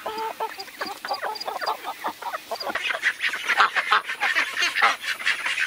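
Chickens cluck and call on a farm that also keeps ducks, horses and a goat. Close, busy bursts of squawks and honk-like cries keep going with no one speaking.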